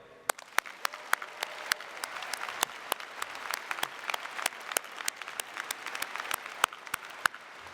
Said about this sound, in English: And now you may join me in a regular applause for everyone.